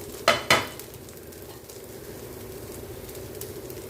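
Broccoli and pepper stir-fry cooks in a pan with a soft, even sizzle throughout, opened by two sharp clinks of a utensil against the pan.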